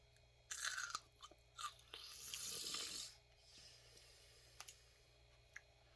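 A dog chewing food close up: wet crunches and bites in short bursts, then a longer grinding stretch, then scattered faint clicks, quiet overall with no talk.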